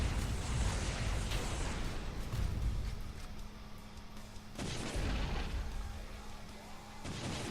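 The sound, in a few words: Overseer exploding with EMP blast in a video game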